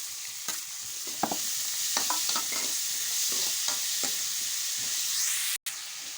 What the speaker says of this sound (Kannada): ಈಗ ಬಟಾಟಿ, ಈ ಟೊಮೆಟೊ ಹಾಕ್ತೀನಿ.